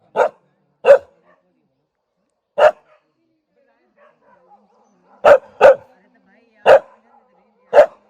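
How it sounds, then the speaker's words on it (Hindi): Dogs bark sharply and loudly at close range in isolated bursts, first singly and then in quick doubled pairs, with near silence between the barks. "कुत्ते आज जल्दी ही भौंकने लग गए, पता नहीं क्यों।"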